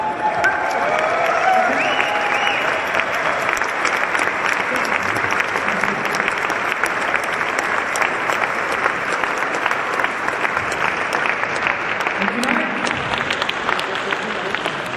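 A large crowd at a liberal political rally in Vienna applauds steadily, a dense continuous clapping wash with faint cheers, holding loud and even throughout.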